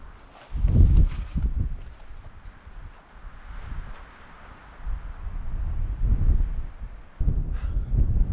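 Cold wind at about 11,000 feet in Colorado's Lost Creek Wilderness during a winter dawn, buffeting the microphone in low rumbling gusts that rise and fall, strongest at the start and end.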